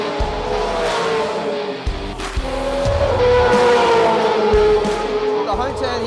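A Supercars race car heads out onto the Adelaide 500 street circuit, its engine revving loud and close. The engine climbs and drops through several gear changes, with a brief tyre squeal, while a commentator talks over it.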